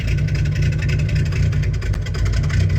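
A Honda Accord with an aftermarket exhaust holds a loud, steady engine drone with a deep low rumble close by, without any talking.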